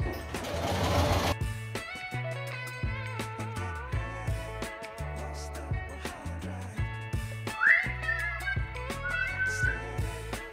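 Sewing machine stitching the center back seam of a dress, a close, steady mechanical whirring in start-and-stop runs.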